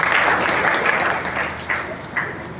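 Applause from an audience at a rural journalists' association's first statewide convention, a steady dense clatter of clapping heard fairly close and alone, with a few louder swells.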